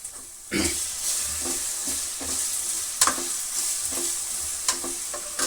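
Tomato and soy sauces hit a hot pan while gobi manchurian rice is stir-fried, giving a steady loud sizzle with sharp scraping stirs and occasional clatter of the spoon.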